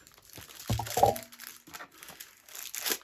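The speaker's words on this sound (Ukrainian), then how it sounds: "Далі ще один жовтий пакет. Відкриваємо." A yellow plastic mailer package holding collectible Game of Thrones items is torn open, with loud crinkling, crunching and tearing of plastic in close, irregular bursts and no talk.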